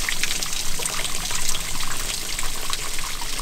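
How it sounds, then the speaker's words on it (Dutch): Water trickling and splashing in a low-lying area of the Bavarian Alps, a steady close babbling flow with gentle bursts and gurgles, continuous and moderately loud with no voices. "In het laag gelegen gebied, daar heb je dus water."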